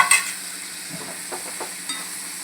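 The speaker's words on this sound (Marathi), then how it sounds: "त्याला चांगलं असं मिक्स करायचं व्यवस्थित। जाड असलं वांगं की असं व्यवस्थित त्याला मॅश करून घ्यायचं।" Baingan bharta, Maharashtrian-style mashed roasted eggplant with coriander, being mixed and mashed in a pan: a soft sizzle with a few scattered scrapes and taps of a spoon, close and quiet.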